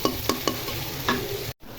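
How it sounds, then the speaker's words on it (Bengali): Onion frying in a pan with dried red chilli, for a potato and pointed gourd stir-fry, with a steady sizzle broken by a few sharp scraping stirs and a brief silence near the end. "পেঁয়াজটা কিছুক্ষণ ভেজে নিব।"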